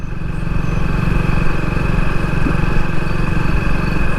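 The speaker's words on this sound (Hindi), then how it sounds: "ये बाइक खड़ी है, ये चल रही है" A motorcycle engine runs steadily at a parked bike during a night drive in a jungle, a loud, close, continuous rumble with no talk.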